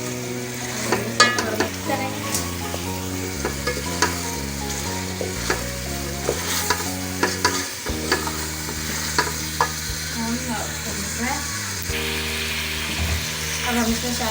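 Potatoes and tomatoes frying in an oily masala are stirred steadily with a spoon, giving a continuous sizzle with scattered scraping clicks over a bed of tonal background music.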